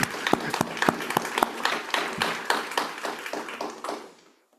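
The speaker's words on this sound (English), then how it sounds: "I think we should clap about that" An audience gives a short round of applause, scattered claps thickening into steady clapping before tapering off to silence.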